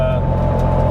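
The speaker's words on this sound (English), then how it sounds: "this engine can be flared" Koenigsegg Gemera engine running at steady revs, a loud continuous droning hum with no change in pitch, heard close up as someone talks over it.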